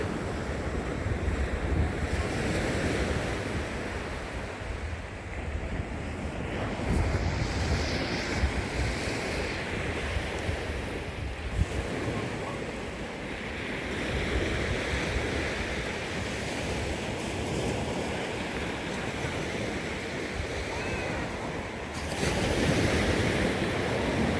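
Ocean surf rolls and breaks steadily on Tong Fuk Beach on Lantau Island, Hong Kong, a continuous wash of waves close by with some wind buffeting the microphone and no talking.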